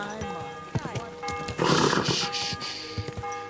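A horse snorts and its hooves clop on the stone grounds of a castle in the medieval game Kingdom Come Deliverance 2, with a loud breathy burst in the middle and steady game ambience and voices throughout.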